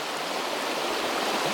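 The River Nethy flowing through boggy, heathery Highland ground in winter, a close, steady broadband rush of water that is loud and even throughout with no voices.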